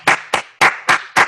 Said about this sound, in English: I give my own self my claps.